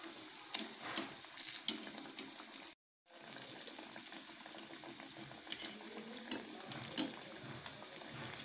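Sweet meethi tikkis frying in a pan over a medium flame, a steady soft crackle and hiss close by with a brief silent gap partway through.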